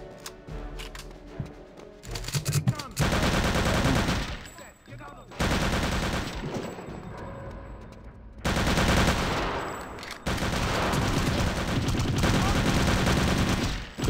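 Loud, sustained bursts of automatic gunfire from the video game Return to Castle Wolfenstein, several long rattling volleys separated by brief gaps, dense and close.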